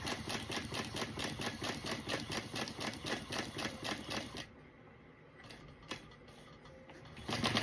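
A sewing machine back stitching a card slot on a leather wallet, running in a fast steady mechanical rattle up close, then stopping into near quiet with faint ticks before starting again.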